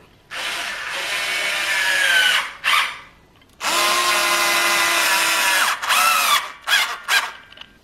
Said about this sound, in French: on va se mettre à visser en espérant que notre visseuse soit assez puissante